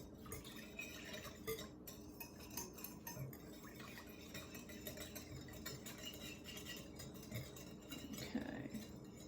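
A spoon stirs dough ingredients with dry yeast in a bowl, giving faint, continuous scraping and occasional light clinks of utensil against the dish.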